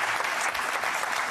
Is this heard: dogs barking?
no